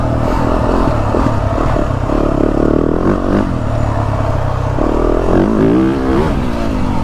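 A 2023 Yamaha YZ450F dirt bike engine roars steadily while being ridden on a track at around 50 mph, close and loud, with rising and falling revs and rattling chassis clatter throughout.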